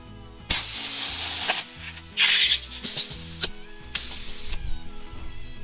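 Compressed air rushing into a tire with the valve stem removed to seat the bead on an off-road bread van: loud hissing blasts in several bursts with pauses between them.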